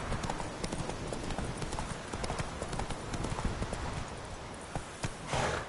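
Horse hooves clip-clop at a slow, steady walk in a PS4 video game, continuous and fairly close, over a soft ambient bed, with no talking heard.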